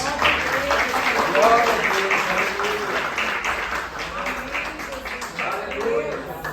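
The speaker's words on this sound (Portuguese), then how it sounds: "E as palmas louvam o Senhor Jesus" Church congregation clapping in praise of Jesus, a dense steady round of applause held for several seconds with voices speaking and calling out over it.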